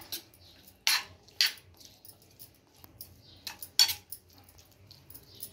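A spoon mixing tomato chutney with chopped chilli, coriander, salt and lemon juice in a bowl, several sharp metallic clinks against the bowl in an uneven rhythm, close and otherwise quiet.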